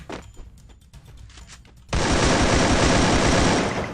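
Loud, sustained automatic gunfire in the Free Fire battle-royale game, a dense rapid burst that erupts suddenly midway after a quieter stretch of scattered clicks and small noises, then continues without pause to the end.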